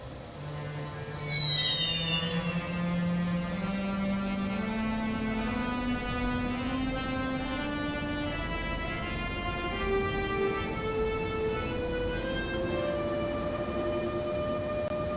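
A train engine in Train Sim World 5 drones and steadily rises in pitch as the throttle opens and it accelerates, with layered tonal harmonics climbing over a constant mechanical rumble.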